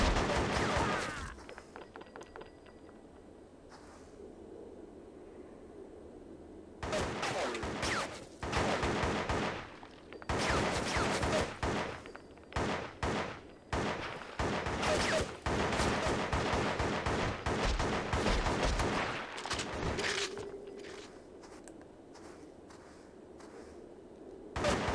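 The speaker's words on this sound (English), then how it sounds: "I heard an explosion." Explosions and gunfire in the PS2 Vietnam War shooter Shellshock: Nam '67, with dense loud bursts of automatic fire and blasts that come in long stretches and stop briefly between them.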